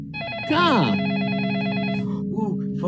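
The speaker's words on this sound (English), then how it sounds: "phone's ringing." A telephone rings with a repeated trilling electronic bell in the interactive drama game Facade, loud and close, while a voice speaks over the first ring and a second ring follows.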